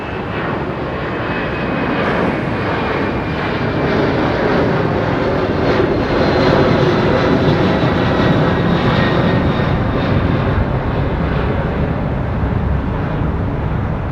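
Jet aircraft engines taxiing at London Heathrow Airport, a loud, steady roaring whine that builds slightly and holds throughout with no talk.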